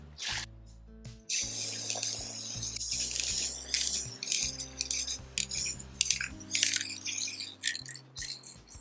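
Aerosol spray paint hissing onto acorns for an autumn wreath: after a brief quiet start, a long, steady, close hiss runs almost continuously, swelling and fading in short bursts over low background music.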